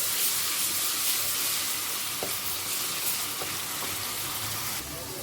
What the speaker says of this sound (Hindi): अब इसको 1 मिनट बस इसमें फ्राई करेंगे